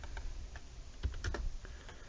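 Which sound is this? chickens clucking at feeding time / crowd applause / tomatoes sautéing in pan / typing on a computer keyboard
typing on a computer keyboard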